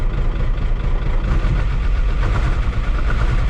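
A 1975 Chevy diesel engine winds down slowly toward idle after the throttle is released, a loud, continuous rough rumble with a knocking texture and no talk.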